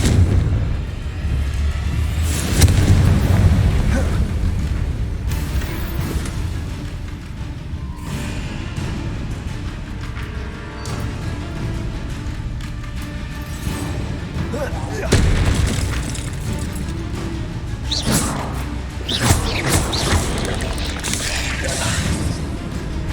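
Confringo explosive spells in Hogwarts Legacy go off as deep booms and blasts over a steady rumble of combat, some loud and some more distant, with someone speaking at times.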